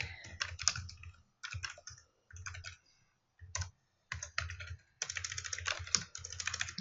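Bursts of clicky typing on a computer keyboard, close and fairly quiet, coming in several short runs separated by brief pauses, with a longer continuous stretch of fast keystrokes at the end.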